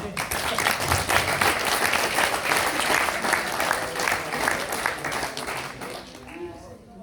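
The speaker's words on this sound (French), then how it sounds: "On peut l'applaudir pour l'encourager." Audience applause at the closing session of a CGT union congress in Rouen, a dense, steady clapping from a hall crowd lasting throughout and thinning toward the end, with some voices mixed in underneath.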